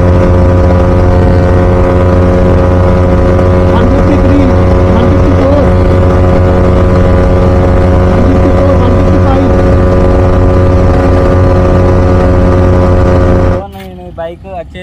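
Loud, close engine drone of a motorcycle cornering, a sustained steady tone with slight pitch wavering that holds for most of the stretch, then cuts away abruptly into a brief burst of other noise near the end.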